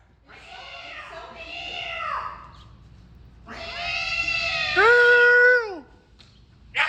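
A cat gives several drawn-out, rising and falling meows indoors, the later ones louder and closer, with quiet background noise between calls.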